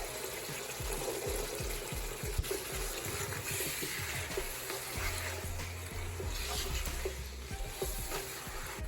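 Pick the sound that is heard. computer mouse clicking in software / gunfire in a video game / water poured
water poured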